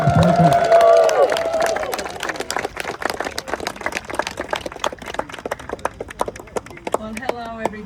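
A crowd claps and cheers to welcome Senator Parker, a dense patter of handclaps that rises after a brief voice at the start and then fades gradually.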